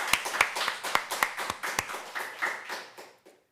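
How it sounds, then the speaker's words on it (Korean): A church congregation during a Sunday service gives a short round of applause: a few sharp, distinct claps at first, thickening briefly into scattered clapping, then tapering off into quiet. "우리 하나님께 감사의 박수 올리겠습니다"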